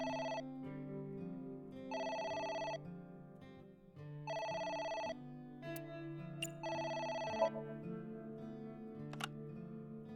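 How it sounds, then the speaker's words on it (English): A telephone rings in the AI: The Somnium Files video game, four bursts of a trilling electronic bell separated by pauses over a low steady background hum, with a few faint clicks. "It's the phone. Maybe try picking it up?"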